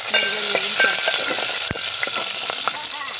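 Green chilies frying in oil, a loud continuous sizzle with scattered crackles and pops and one sharp spatula knock midway.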